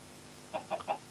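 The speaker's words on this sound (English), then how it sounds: "More chickens!" Minecraft chickens cluck in the game, three short soft clucks in quick succession after a quiet start, faint and with no talking.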